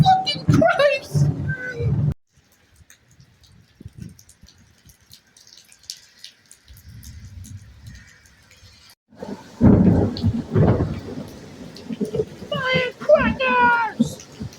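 Thunder from lightning strikes during a storm in Bristol, Connecticut, booming and rumbling low over rain, with excited shouting voices before and after a quieter stretch of distant rolling.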